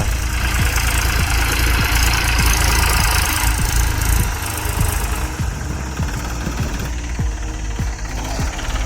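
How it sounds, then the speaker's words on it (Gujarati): A tractor engine runs steadily on a farm field, a constant low rumble with a rhythmic knocking pulse throughout, loud and close, with no voices. "આપણું ટ્રેક્ટર થઈ ગયું પાછું હાલતું."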